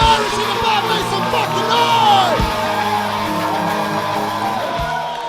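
A comedy show crowd yells and cheers, loud and continuous with whoops and shouts swelling in the middle and then easing slightly.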